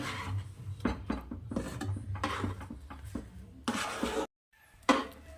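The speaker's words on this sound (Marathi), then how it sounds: "असं मिक्स करत राहायचं म्हणजे आपलं पुरण छान चिकट होते" Thick puran, a cooked lentil and jaggery filling, being stirred in a pan over a low flame, with repeated scraping and knocking of a spoon against the pan in an uneven rhythm and one short pause near the end.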